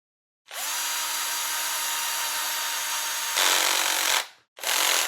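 Power drill driving screws into a differential cover on a FastEddy Bearings DR10 RC car build, a close, sustained high whir that shifts pitch partway through, stops briefly, then starts again, with no talking.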